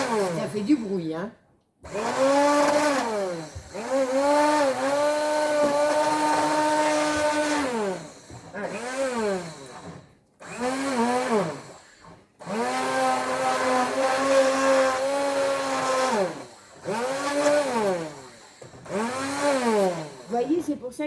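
Food is mixed in a blender in several loud, whining motor bursts whose pitch rises and dips as the contents churn, separated by short pauses.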